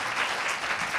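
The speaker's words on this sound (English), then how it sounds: "If you have a round of applause for our wonderful speakers." A short stretch of steady audience applause thanking the speakers at the close of a panel discussion, an even wash of many hands clapping at moderate distance, without any talk over it.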